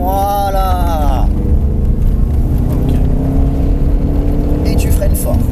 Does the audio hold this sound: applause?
no